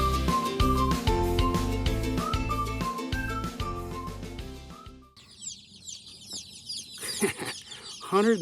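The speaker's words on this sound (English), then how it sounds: "You can hear them cheeping back there." Music plays at first, then a box of meat chicks cheeps and chirps in a truck's back seat, a dense chorus of high peeps filling the cab.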